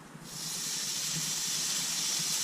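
Steady, close sizzling and hissing from bacon in a hot pan, continuous and fairly loud, with faint crackles underneath and no talking.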